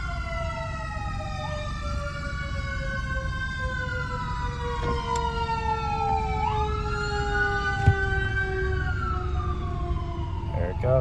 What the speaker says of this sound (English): We got a fire truck coming by.